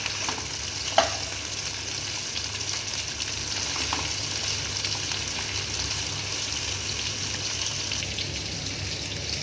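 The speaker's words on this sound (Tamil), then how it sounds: "வாழைக்காவை சேர்த்துட்டு நம்ம இதை லைட்டாக ஃப்ரை பண்ணிக்கலாம்." Sliced raw banana (plantain) frying in a pan, a steady soft sizzle with an occasional stirring clink, moderately quiet throughout with no talking.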